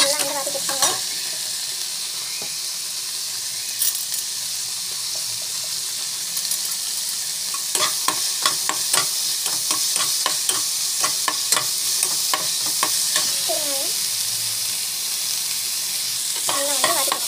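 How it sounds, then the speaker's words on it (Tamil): Ginger garlic paste sautéing in hot oil that already holds mustard seeds and cumin, a loud continuous hiss with bursts of sputtering and popping, close by and without speech. "இஞ்சி பூண்டு பேஸ்ட்டு நல்லா வந்து வதக்கி வச்சுக்கோங்க."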